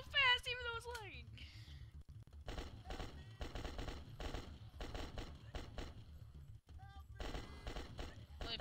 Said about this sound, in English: I'm shooting so fast even though it's lagging